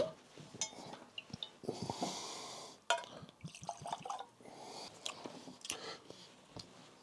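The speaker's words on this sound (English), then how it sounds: "Let's pour a little of that and compare back and forth." Member's Mark bottled-in-bond bourbon is poured into a glass, giving soft intermittent liquid trickles and drips along with small clinks and handling noises, heard close up and fairly quiet.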